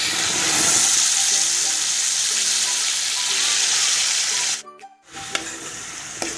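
Tomato paste sautéing in hot oil with curry leaves and a bay leaf over a low flame, a steady close hiss and sizzle that cuts out briefly near the end before resuming more quietly.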